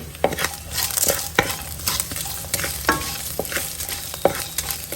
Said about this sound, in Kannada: ಬೆಳ್ಳುಳ್ಳಿ ಎಲ್ಲ ನೋಡಿ ಇವಾಗ ಚೆನ್ನಾಗಿ ಹುರಿದಿದೆ